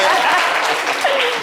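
A studio audience on a French-language talk show breaks into brief, lively applause, a full crackling wash of claps with a faint voice carrying over it.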